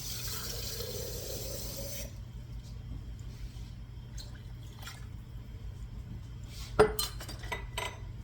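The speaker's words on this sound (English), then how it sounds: "I'm going to add a little more water." Water pours into a cooking pot of pork neckbones with peas and rice, a steady rush for about two seconds, then quiet drips with a few soft clinks of pots and utensils nearby.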